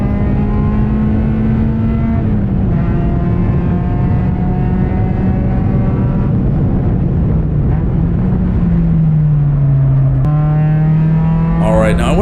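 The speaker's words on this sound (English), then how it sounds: "Third gear, carrying lots of speed through there, using as much road as possible, and onto the main stretch" A ChampCar endurance race car pulling hard in third gear at speed, a steady loud engine drone that sags slightly in pitch before rising, with a voice talking over it throughout.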